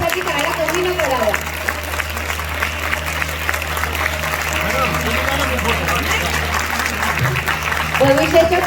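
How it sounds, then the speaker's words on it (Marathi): Audience applause at a district-level science exhibition award ceremony as a student is called to the stage, a steady broadband clapping wash running throughout with a continuous low hum beneath and some talk mixed in. "त्याच्या अभिनंदनासाठी टाळ्या कमी न करावा"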